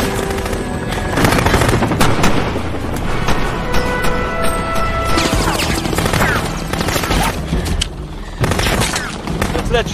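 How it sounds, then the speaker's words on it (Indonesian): A helicopter is blown up amid heavy gunfire in a film action scene: sustained, loud machine-gun fire and crashing blasts form a dense, continuous barrage, with a voice speaking over it. "dan Swigger berhasil meledakkan heli tersebut."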